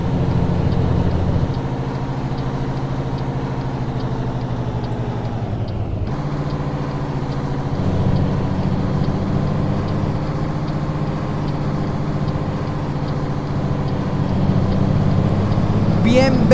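A Ford 100 pickup truck drives in American Truck Simulator, its engine producing a steady droning hum that shifts pitch a few times, as if changing gears, and stays loud and continuous.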